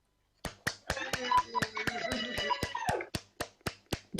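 A small, sparse group applauding at an online graduation ceremony, thin irregular claps at first, then a few distinct, separate claps trailing off, heard beside a voice and other overlapping chatter.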